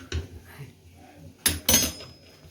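Okra stirred in a cooking pot on the stove, with a soft knock early on and then two sharp metallic clatters of the utensil against the pot close by, separated by quiet.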